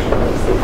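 Brief, loud, steady rumble of a London Underground train running, heard from inside the carriage.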